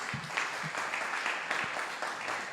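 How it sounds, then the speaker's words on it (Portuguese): An audience applauds for the performer Salloma Sallomão at an afternoon event, a short burst of dense clapping heard close and fairly loud. "Uma palma de palmas para o Saloma."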